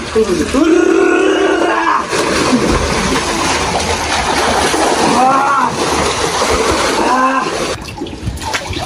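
Someone dunks in cold pond water, making repeated splashes and sloshing, with voices calling out over the water throughout.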